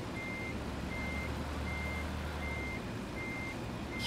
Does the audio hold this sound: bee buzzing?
no